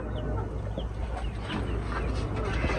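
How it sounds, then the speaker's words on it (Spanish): A chick sick with Newcastle disease makes soft, faint cheeping and clucking calls in a brief, quiet indoor moment with low background hum. "ahí está el pollito"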